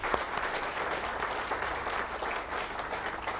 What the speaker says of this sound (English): And a round of applause for all of them.